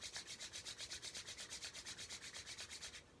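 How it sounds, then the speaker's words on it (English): Palms rubbing briskly together during a Kundalini yoga warm-up, a fast, even series of close swishing strokes, about seven per second, stopping abruptly near the end. "So, tuning in, rub your hands together."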